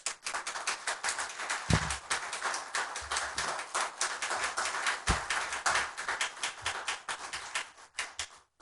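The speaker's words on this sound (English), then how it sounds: "Ladies and gentlemen, a round of applause for our candidates." Audience members at a candidate forum applaud, a sustained crisp patter of many hands clapping at close-to-moderate distance, with a few louder thumps mixed in before it tapers off.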